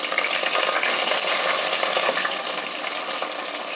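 Onion sizzles in hot oil in a pan with urad and chana dal, a dense, steady frying hiss that stays loud and close throughout with no voices.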